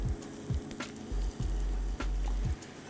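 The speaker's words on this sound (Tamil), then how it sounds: "ஸோ இதோட இப்போ 1 கப் முட்டைக்கோஸ் வந்து உள்ளே சேர்த்துருவோம்." Cabbage fries in a hot pan with green chilies, a steady close sizzle broken by a few soft stirring scrapes and thumps, with no voices.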